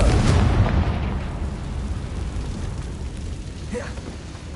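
A Confringo blasting spell bursts in Hogwarts Legacy, a loud booming explosion at the start that rumbles and fades into a dense, lingering roar.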